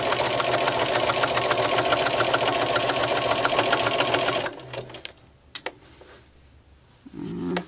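A sewing machine running fast and steady, zigzag stitching along a burp cloth for several seconds, then stopping abruptly, leaving a few handling clicks and quiet rustles.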